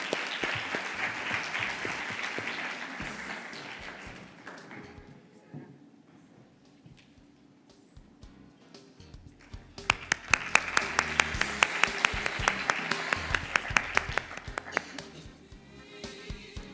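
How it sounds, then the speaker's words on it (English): A crowd at an autism conference in Dubai applauds, the clapping fading to near quiet, then a second burst of loud, dense applause swells up and tapers off. "A big round of applause."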